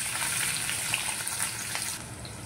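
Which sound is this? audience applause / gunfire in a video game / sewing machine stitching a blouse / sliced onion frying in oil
sliced onion frying in oil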